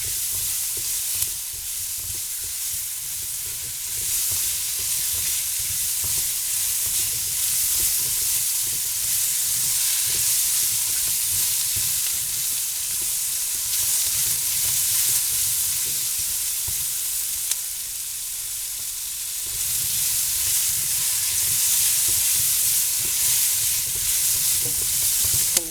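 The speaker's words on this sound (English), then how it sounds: "Stir fry that until this squash softens up." Squash and other vegetables stir-fry in a pan for a beef lo mein, a steady close sizzle and hiss broken by repeated scraping strokes as they are stirred, with no talking.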